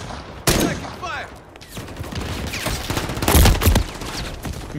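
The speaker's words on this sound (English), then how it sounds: "Taking effective fire." Gunfire in the video game Call of Duty during a Hardpoint match: bursts of rapid shots and a loud volley, with game voice callouts running over the action.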